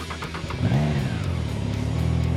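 A Triumph Trident 660 motorcycle fitted with the optional quick shifter revs up sharply, its engine note climbing, then settles into a steady, close, rising drone as it pulls away.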